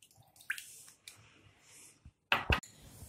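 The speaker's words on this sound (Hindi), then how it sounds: "अब हम एक मिक्सिंग बाउल लेंगे और उसमें रवा को ट्रांसफर कर देंगे और साथ में हम दही डाल देंगे" Curd being added to semolina in a mixing bowl, a few soft wet plops and squishes close by, separated by quiet gaps, with a louder pair of splats near the end.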